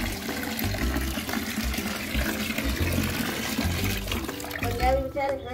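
Water is poured onto potted plants, including a dried-out tulsi plant, at home: a continuous splashing, gurgling pour, close by, that shifts in tone near the end.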